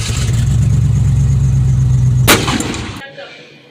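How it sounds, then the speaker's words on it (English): Truck engine idling roughly after startup, then one loud, sharp backfire bang close by, followed by the engine cutting out into near silence. "It just backfires way too damn loud."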